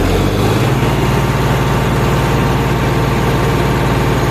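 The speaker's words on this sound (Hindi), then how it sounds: "अब हम इस ट्रैक्टर को कर लेते हैं चालू" A 2021 John Deere tractor diesel engine idling close by after starting, a loud, steady low rhythmic chug that continues evenly throughout with no talking.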